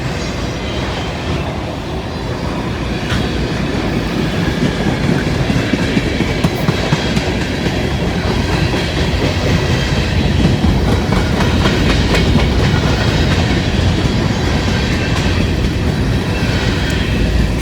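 A long freight train rolls past close by with a loud, steady rumble and rhythmic clickety-clack of wheels over rail joints, continuous throughout with no talk.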